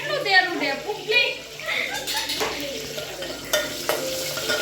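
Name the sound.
dough frying in splattering oil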